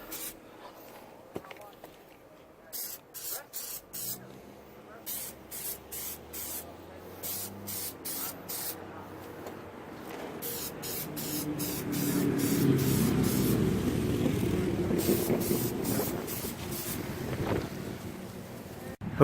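Plasti Dip coating being sprayed from an aerosol can onto a BMW F30 car grille comes as a rapid series of short, close hissing bursts, then a longer steady spray, with windy background noise throughout.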